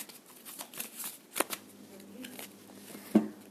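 Tarot cards being shuffled and handled for drawing one more card, soft repeated papery riffles and slides with a couple of sharper taps, close and moderately quiet, with faint voice in the background.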